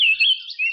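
Birds chirp through a calm morning, with bright, high twittering calls in a few quick bursts rising and falling over less than a second, fairly close and clear with no talking.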